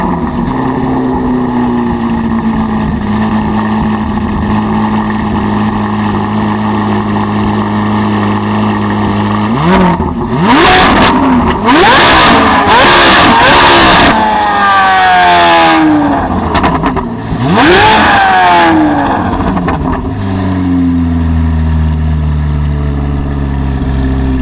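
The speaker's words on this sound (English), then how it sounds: "the exhaust of this car just screams" A 2023 C8 Corvette Z06 idles with a smooth hum, then its exhaust breaks into a run of sharp, screaming revs. The engine climbs and falls repeatedly and loudly before settling back to idle.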